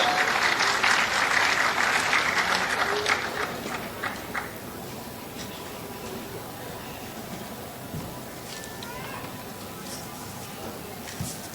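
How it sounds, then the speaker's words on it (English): Enthusiastic applause from an audience at a university convocation in Lahore starts loud, then thins out over several seconds into scattered claps and low room noise. "Please, round of applause."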